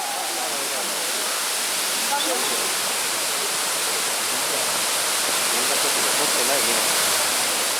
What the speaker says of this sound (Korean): 그림 같은 폭포가 나타난다. 마나이 폭포다.